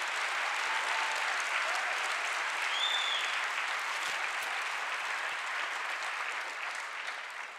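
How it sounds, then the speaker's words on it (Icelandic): An audience at a large rally for Palestine applauds, sustained and loud from start to end, with the clapping easing slightly toward the finish. "já, klappið fyrir því þið bara viljið."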